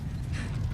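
Wooden cart wheels creak and rattle with clip-clopping hooves as a horse-drawn cart rolls by in a Game of Thrones video game, a short, close, steady mechanical clatter.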